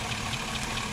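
A 2005 Chevrolet Suburban's 5.3L V8 idles steadily with a faint, regular lifter tick, the light ticking heard at a distance rather than close up, with no talk.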